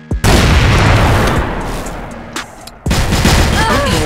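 A grenade blast in the shooter game CrossFire, a sudden loud boom with a long rumbling tail, then a second sharp burst near the end with faint voices.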